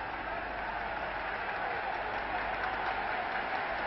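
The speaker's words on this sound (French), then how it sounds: "Il est très applaudi." A crowd at a 1967 basketball final between Real Madrid and Simmenthal Milano applauds in a steady, even wash of clapping, heard distantly through a muffled, narrow-band old broadcast recording.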